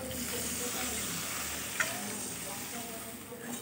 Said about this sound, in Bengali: সেই গরম জলটা এবার দিয়ে দিচ্ছি।